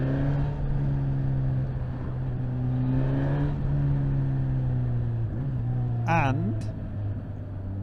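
Suzuki GSX-S1000 motorcycle engine hums steadily while riding, with gentle throttle blips that lift and drop the pitch, under a rider's continuous talk and wind.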